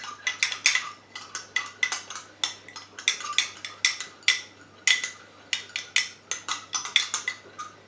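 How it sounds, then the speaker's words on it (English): A utensil stirs a homemade face serum mixture in a small container, making a quick run of close, bright clinks and scrapes that repeat in a steady rhythm. "You can see as you keep mixing, the texture continues to change and it gets thicker."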